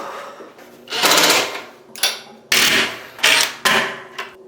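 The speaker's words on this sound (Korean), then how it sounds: "여기에 칼블럭을 꽂아줄게요" Plastic wall anchors driven into a wall while a sink is installed: several loud, sharp impacts and short grinding bursts spaced about a second apart, close and with no talking.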